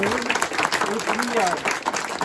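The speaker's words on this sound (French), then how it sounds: "Et puis là, un grand moment, on l'applaudit, Johara." Audience applauding an exhibiting artist at an afternoon storytelling event, steady clapping throughout with a voice speaking over it.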